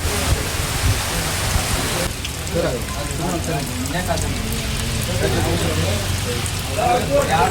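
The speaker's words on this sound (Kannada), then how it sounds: "ಇಲ್ಲಿ ನೋಡ್ರಿ ಜೋರು ಮಳೆ ಬರೋ ಒಂದೈತಿ" Heavy rain pours down in a dense, constant hiss at a bus stand while someone talks over it nearby.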